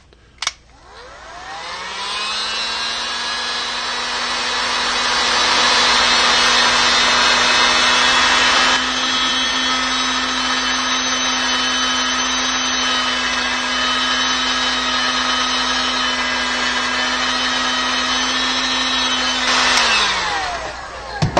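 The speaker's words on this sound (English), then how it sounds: "heat gun, hair dryer, what have you." A heat gun or hair dryer shrinks heat-shrink tubing on a handmade fisherman's pen, making a steady blowing whine for about twenty seconds. The tone rises as it spins up and drops away as it shuts off.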